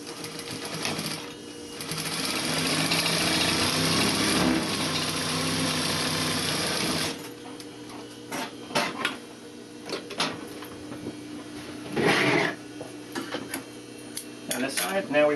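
A sewing machine stitches a quarter-inch seam in fabric, running in a steady whirring drone for several seconds before stopping, followed by scattered clicks and handling noises with some speech.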